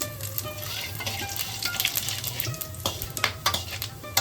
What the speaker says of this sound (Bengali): এবার আমি তেজপাতা, শুকনো লঙ্কা, জিরে সহ হোল গরম মশলা দিয়ে দিলাম ফোড়নে